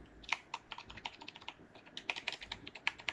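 Typing on a new Zebronics Transformer keyboard gives a quick, steady run of crisp key clicks close to the microphone, with uneven rhythm and no talking.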